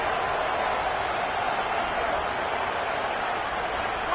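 A home crowd at a Madden football video game roars steadily throughout, a dense, even wash of cheering with no breaks or peaks, fairly loud and continuous.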